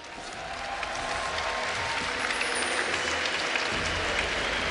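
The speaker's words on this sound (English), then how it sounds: "let me hear you guys cheer for Counter Logic Gaming Europe." Crowd at a Gamescom League of Legends European Regionals match between SK Gaming and CLG.eu cheering and applauding for Counter Logic Gaming Europe, a dense roar that swells over the first second and holds loud and steady.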